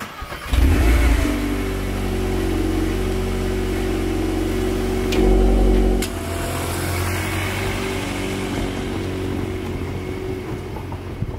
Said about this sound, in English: Give you a little cold start on this thing. It's got an Akrapovic.